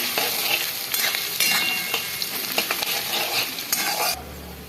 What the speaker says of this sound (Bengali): গরম হয়ে গেছে পেঁয়াজগুলো দিয়ে দিচ্ছি ভাজার জন্য বেরেস্তা করার জন্য